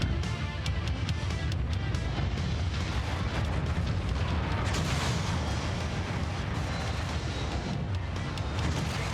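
Enemy weapon fire pounding a mech in MechWarrior 5 with the MechCommander Mercenaries mod, a dense, continuous barrage of loud booming impacts and rumbling blasts that runs unbroken, with no voices.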